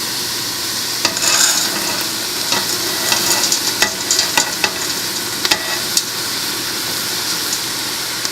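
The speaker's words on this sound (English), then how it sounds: "So we're going to go ahead and add our lentils now." Small brown lentils tumbling into a soup pot and being stirred through hot oil, with a sustained sizzle under scattered scraping and clattering spoon strokes, close and fairly loud.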